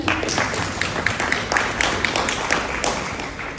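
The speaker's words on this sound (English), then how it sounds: "Can we have a please round of applause again?" An audience at a Teachers' Day event claps after a skit, with uneven, moderately loud bursts of applause spread across the few seconds.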